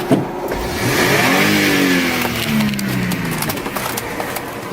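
An Audi Cabriolet A6 80 Classic convertible with about 70k miles revs up in a parking lot, its engine tone rising and then falling away. A pigeon coos faintly in the background.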